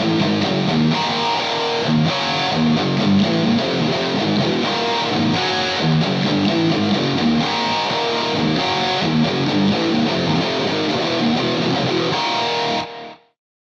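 A heavy distorted guitar riff moves through 7/4 and 9/4 sections, loud and continuous with a churning, repeating pattern until it stops sharply near the end.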